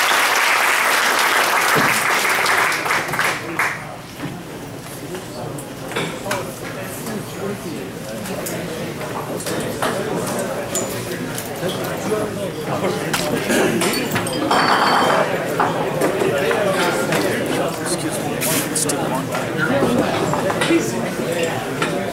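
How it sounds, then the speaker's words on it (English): Audience applause at a Hive on Spark tech meetup talk, steady clapping from a room of listeners that swells at the start and continues throughout, with some voices mixed in. "let's have a big round of applause for all of us"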